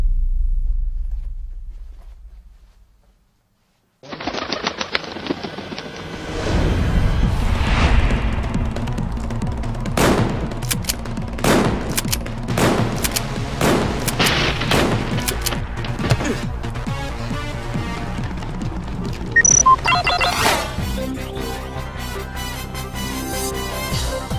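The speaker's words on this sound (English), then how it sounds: "Guns! Lots of guns!" Gunfire from the Final Fantasy X-2 finale plays as a long barrage of rapid shots and booms over a constant game soundtrack, loud and continuous after a brief silence.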